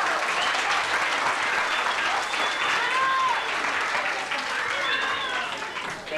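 Audience applause at an Italian community festival evening, a loud sustained ovation with a few voices calling out over the clapping before it tapers slightly near the end.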